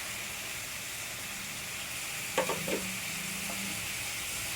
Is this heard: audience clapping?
no